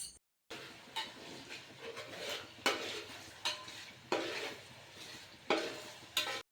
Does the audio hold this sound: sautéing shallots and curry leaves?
yes